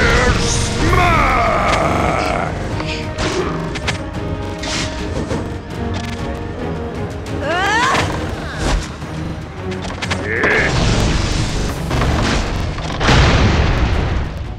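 Dromir's smash attack in a video game, a run of heavy booming impacts and crashing hits that repeat through the stretch, loud and close amid dense combat effects.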